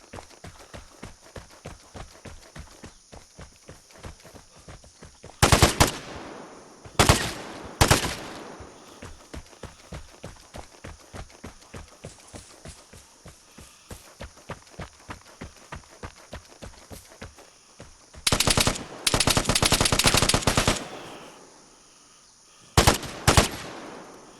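Rapid automatic gunfire in the online shooter game Vigor, a long steady stream of shots with louder bursts of close fire breaking in, no talking.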